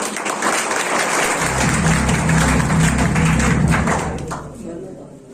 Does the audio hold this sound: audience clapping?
yes